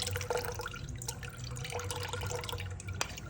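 Homemade Jamaican ginger beer strains through a fine strainer, a steady soft trickle and drip of liquid heard close and fairly quiet, with no talking.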